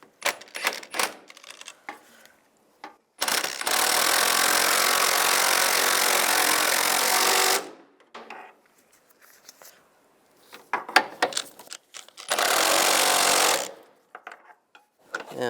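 Bolts being tightened on the water pump of a 1999-2005 Volkswagen Jetta, heard as two long, loud bursts of a power tool whirring steadily, separated by short scattered clicks and clinks of handling.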